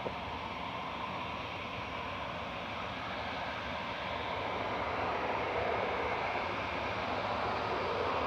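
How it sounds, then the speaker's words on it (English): An Aer Lingus Regional ATR 72-600 turboprop arriving from Belfast at Manchester Airport, a steady broadband engine roar at moderate distance that swells slightly toward the end, with no talk. "Aer Lingus Regional CMJL arriving from Belfast, ACR 72600."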